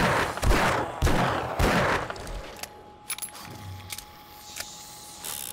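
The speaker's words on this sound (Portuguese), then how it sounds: "Qual paciência pra carregar essa arma?" A few heavy gunshot bursts, then sparse metallic clicks and clacks of a gun being reloaded in 7 Days to Die Alpha 21 during a blood moon horde, fairly close and with no talking.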